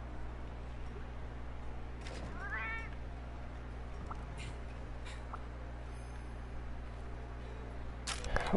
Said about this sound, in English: There's a cat in my wall.